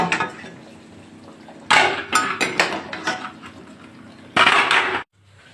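A cooking pot used for boiling eggs for egg curry is lifted off a stove, giving loud clattering metal knocks and scrapes in bursts, with a softer kitchen background between them.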